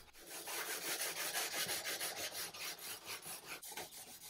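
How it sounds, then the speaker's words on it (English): Brass pieces from a cart restoration being sanded by hand with 180 grit sandpaper, giving a steady, close rhythmic rasping of back-and-forth strokes alone, with no talk. "then I use 180 grit sandpaper to give all those pieces a nice and brushed finish."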